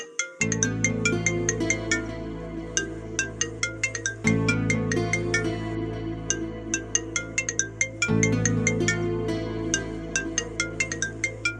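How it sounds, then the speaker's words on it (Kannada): A bright, melodic phone ringtone plays loudly, its chiming tune repeating three times in a steady loop with no talking. "ಫೋನ್ ಬರ್ತಾ ಇದೆ, ಪಿಕ್ ಮಾಡು"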